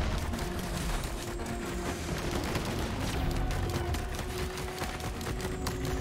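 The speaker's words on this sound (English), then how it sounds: "Woo, lasers!" Rapid laser fire in Risk of Rain 2, a dense continuous barrage of shots from a guardian-like enemy near a shrine, crackling steadily over a busy game soundtrack.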